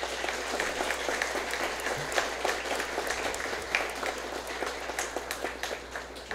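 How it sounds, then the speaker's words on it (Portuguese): Applause at a church wedding ceremony in Portuguese, right after the couple's vows: steady, moderately distant clapping from the gathered guests that runs without a break through the whole stretch, at an even level. "Uma salva de palmas."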